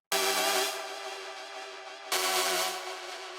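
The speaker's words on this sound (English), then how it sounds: "And all this is a normal string patch" A synth string patch called Epic String, built in Harmless, plays two sustained, bright chords. Each has a sharp onset and a slow fade, and the second chord comes about two seconds after the first.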